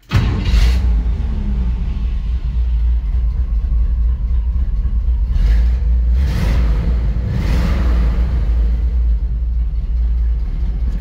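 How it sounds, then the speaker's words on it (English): A 1955 Chevy 3100 Stepside pickup engine cranks and catches abruptly, then settles into a loud, continuous low rumble with a few bursts of throttle. "Let's see if we can fire it up here."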